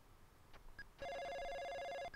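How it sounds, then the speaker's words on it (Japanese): A telephone rings in a detective video game, a steady electronic trill of rapid repeating pulses lasting about a second, loud and clear with no talk over it, preceded by a few faint clicks. "電話が鳴っている"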